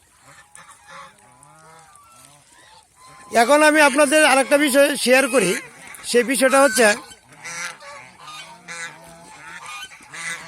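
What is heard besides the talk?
goose honking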